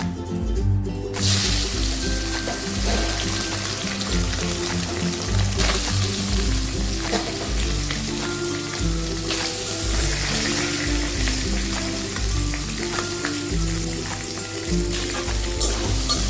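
Soya chunks go into hot oil in a kadai and fry for a Bengali ash gourd shukto, giving a loud, steady sizzle and crackle throughout with low clunks from the pan and no talking.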